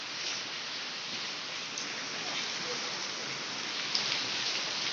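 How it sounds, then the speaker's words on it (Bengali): Heavy rain pours down in a steady, even hiss with no breaks, heard from a short distance with no voices over it. "এখনো এই মুহূর্তে প্রচুর পরিমাণে বৃষ্টি হচ্ছে"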